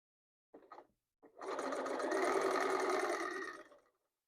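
Sewing machine stitching along a quilt seam: a couple of short handling taps, then one steady, close whirring run of about two seconds that fades as it stops.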